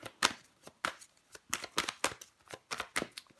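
Tarot cards being handled and laid out make a series of crisp, close flicks and slaps in an irregular rhythm, with short quiet gaps between them.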